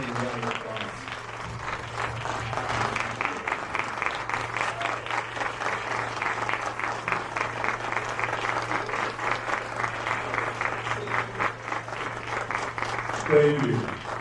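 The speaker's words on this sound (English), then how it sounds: "Please give him a big standing round of applause." A big standing round of applause for Assemblymember Chris Holden fills the room, a dense, steady wash of many hands clapping that holds at an even level throughout, with a low hum underneath.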